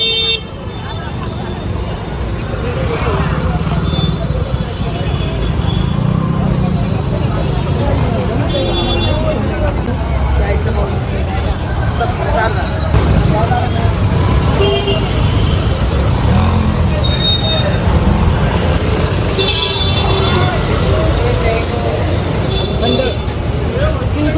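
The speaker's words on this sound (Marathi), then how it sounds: "फायनली आम्हाला रिक्षा भेटली आणि आता आम्ही निघालो आहोत" An auto rickshaw rides through busy street traffic in Nashik on a shopping trip, with a steady engine and road rumble, passing vehicles and occasional horns. People talk throughout.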